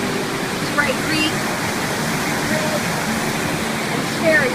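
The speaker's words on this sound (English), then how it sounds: "At last, long-awaited bridge over Sprague Creek." Steady broadband rush of Sprague Creek flowing beneath a trail bridge on the way to Sperry Chalet, a constant even roar close by with faint birdsong and brief squeaks over it.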